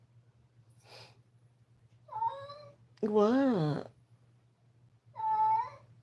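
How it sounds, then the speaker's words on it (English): A house cat meows three or four times nearby, with drawn-out, rising and falling cries over a steady low hum, and a person speaks briefly between them. "I gotta get this cat."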